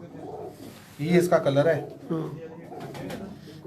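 A pigeon coos softly on a rooftop in Faisalabad, its low burbling calls mixed under close conversation.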